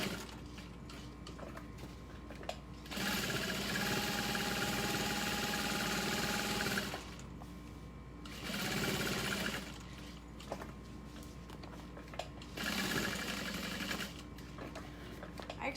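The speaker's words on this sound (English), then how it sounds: "I'm going to back stitch, and then I'm going to sew down the sides and the bottom." A sewing machine runs in three bursts while stitching the sides and bottom of a handbag, a steady mechanical whir at close range, stopping and starting with quiet pauses between runs.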